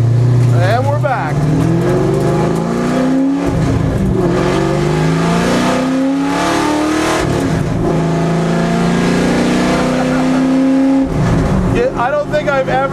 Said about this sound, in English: I guess this is what straight pipe sound.